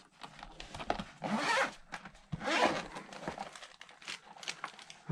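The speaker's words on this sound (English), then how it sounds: "Got a couple of zippers." Zippers on a herringbone-patterned binoculars case are pulled open and shut in two long rasping strokes, surrounded by close crinkling and fabric handling.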